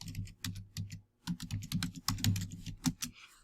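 Typing on a computer keyboard in an Office 2016 lesson, a close run of quick clicking keystrokes in uneven bursts with one brief pause.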